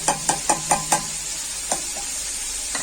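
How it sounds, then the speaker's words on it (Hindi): Chicken liver fries in a pan, a soft steady sizzle broken by a quick run of five sharp spoon scrapes against the metal, then two more scattered knocks, close and clear with no talking. "फ्राई करते हुए मुझे 3 से 4 मिनट हो चुकी हैं"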